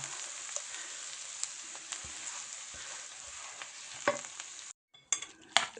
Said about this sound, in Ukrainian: Це все ми вимішуємо до однорідної маси гарно.